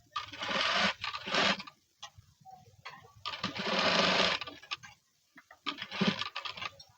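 Sewing machine stitching along the edge of blouse cloth, running in three loud sustained bursts with brief pauses between them, close and alone.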